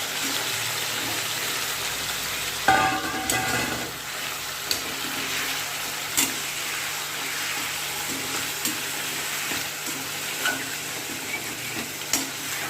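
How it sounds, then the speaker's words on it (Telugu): Marinated chicken pieces frying in hot oil on high heat, a continuous moderate hiss and crackle with occasional stirring clinks, no voices. "ఇప్పుడు కొంచెం హైలో పెట్టుకొని చికెన్ వేగే వరకు"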